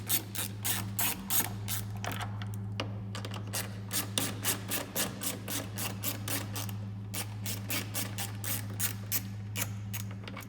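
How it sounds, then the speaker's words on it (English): A 10 mm ratchet works loose the tail light bolts on a Hyundai Tucson, giving fast runs of crisp, close clicks in repeated bursts over a steady low hum. "So I got my 10 millimeter ratchet."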